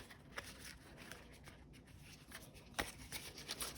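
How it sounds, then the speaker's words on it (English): A 71-card art deck shuffled by hand, quiet papery rubbing and flicking with a few sharper riffle snaps, soft and close with no talking. "I'm just going to do a little shuffle and pick a card today."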